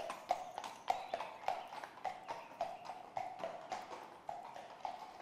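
Horses pulling a farm cart along a country road clip-clop past in a steady trotting rhythm of sharp hoof taps, moderately close and fairly quiet, with no other sounds.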